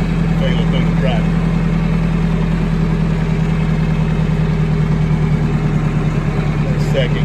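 A John Deere 3020 tractor engine runs steadily during storm cleanup, a constant low, loud diesel drone that continues without a break under the noise.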